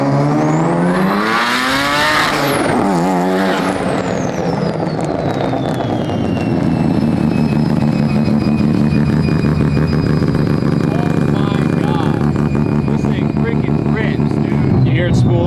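A rotary-engine Mazda build, a 600 hp bridgeported car, revs hard and loud nearby, its pitch sweeping up and down before the turbo spools down with a fading whistle under a sustained engine drone.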